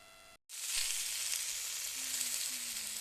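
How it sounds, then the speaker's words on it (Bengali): Ivy gourd (kundli) and potato pieces land in hot oil in a kadai, setting off a loud, steady hiss of frying that holds on close up with no voices. "দিয়ে দেবো কুঁদলি আর আলু প্রথমে ভেজে নেবো একটু"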